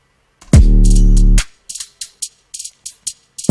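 An 808 bass widened with reverb in Ableton Live plays a single long, deep note, followed by a sparse run of hi-hat ticks. It is loud and sounds like a processed beat.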